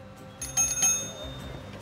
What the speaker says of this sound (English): It's a good bell.